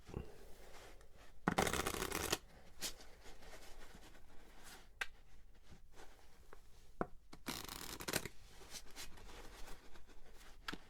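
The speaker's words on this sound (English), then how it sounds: "I need to give these a very good shuffle" A deck of playing cards being shuffled thoroughly at close range, with two loud riffle bursts separated by softer rubbing, sliding and tapping of the cards, quiet and intimate.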